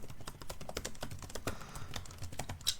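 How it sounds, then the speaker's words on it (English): Rapid clicking keystrokes on a laptop keyboard, irregular and close, with no one talking. "It makes some nice typing noises, as you can tell."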